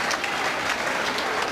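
Football crowd at a 1997/98 Plymouth Argyle v Blackpool match applauding a substitute, a steady wash of clapping from a large stadium audience with no distinct voices.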